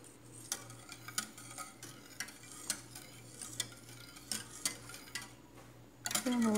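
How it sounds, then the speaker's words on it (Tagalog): A spoon stirs a creamy, milky gulaman mixture in a pot, giving soft repeated scrapes and taps at a steady rhythm over a low hum. A louder clatter comes near the end. "Haluin ng mabuti."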